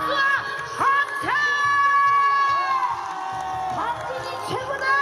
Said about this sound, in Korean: 즐거우신 분들 다 같이 박수와 함성!